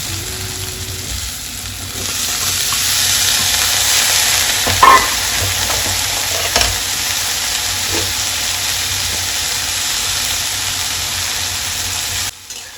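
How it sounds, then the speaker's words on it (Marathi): Chopped brinjal being sautéed in a pan with red chutney masala over low heat, giving a steady close sizzle with scraping stir strokes throughout and a couple of sharper clinks near the middle. "आता यामध्ये मी चिरलेले बारीक वांगे टाकून चांगले परतवून घेतलेले आहेत."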